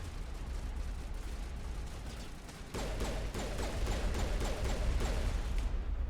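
Gunfire in the Mass Effect video game, a faint steady rattle of rapid shots and impacts that grows denser and louder partway through, continuing to the end.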